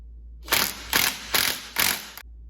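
A hand ratchet loosens a bolt on a Banshee supermoto's triple tree, giving four quick clicking strokes in an even rhythm, close and loud, with no talking.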